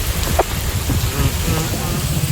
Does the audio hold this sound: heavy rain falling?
yes